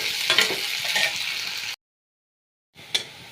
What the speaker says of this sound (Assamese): পিঁয়াজ মই ব্ৰাউন কালাৰ হোৱালৈ ভাজিম